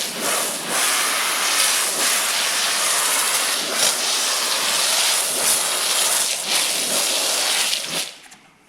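A foam sprayer hissing cleaner onto a GMC Sierra Denali truck, a loud, continuous broadband spray with slight pulsing, running for about eight seconds before cutting off.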